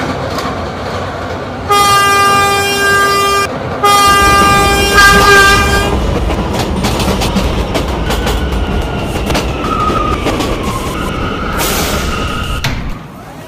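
An R179 subway car on an E train runs in a steady loud rumble, with a two-part tonal horn or chime sounding early and then fading into continuous wheel and track noise.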